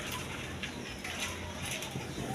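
Jacobin pigeons, a running pair offered at a pigeon sale, coo softly and continuously against steady background noise with no clear pauses.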